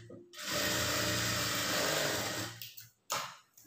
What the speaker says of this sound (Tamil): இப்போ நம்ம ஏற்கனவே போட்ட தையல் மேலே இன்னொரு தையல் வந்து போட்டுக்கலாம்.